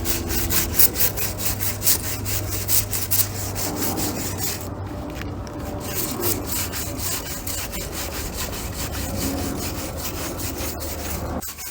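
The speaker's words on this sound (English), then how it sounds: "Some of this harder, thicker stuff, we can use a draw knife to get it off." A draw knife scrapes thick, hard bark off a log during work on an off-grid cabin foundation, giving steady repeated rasping strokes, close and fairly loud, with no talking.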